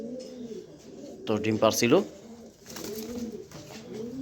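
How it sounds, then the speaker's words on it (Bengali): A pair of pigeons coos in soft, repeated throaty phrases, with someone talking loudly over them in a brief burst midway before the cooing continues. "খুব সুন্দর সেরকম এক জোড়া কবুতর"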